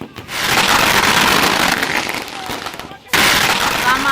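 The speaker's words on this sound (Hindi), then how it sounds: "जीत के बाद इन समर्थकों ने जमकर आतिशबाजी कर खुशी मनाई।" Fireworks set off by supporters celebrating an election victory crackle and pop densely and loudly in a near-continuous barrage, with a brief lull before the bursts resume.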